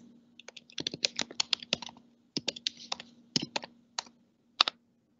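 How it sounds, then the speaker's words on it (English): Keys on a computer keyboard clatter as a website address is typed, in quick irregular bursts of crisp clicks with short pauses between, close and fairly quiet against a steady faint hum, with no talk. "So I'm going to type here the website"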